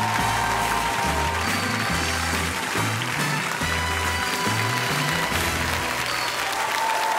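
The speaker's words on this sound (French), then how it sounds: "Mesdames et messieurs, applaudissez Claire Fantaisie." A circus audience applauds a performer at a rock'n'roll circus show, bright continuous clapping mixed with crowd noise over a driving bass-heavy music track that pulses rhythmically underneath the whole time.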